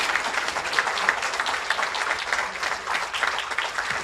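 An audience at a library director's retirement event applauds steadily, a dense, loud wash of many hands clapping without pause throughout.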